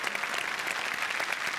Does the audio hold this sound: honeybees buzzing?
no